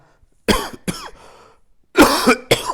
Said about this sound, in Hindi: बहुत खांसी है मुझे